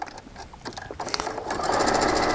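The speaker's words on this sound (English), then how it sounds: "So I'll just go ahead and sew all of these together for you." A sewing machine stitching quilt pieces together for a variegated cloth cityscape quilt, a steady rapid mechanical whir that builds and grows louder and more continuous toward the end, with no talk over it.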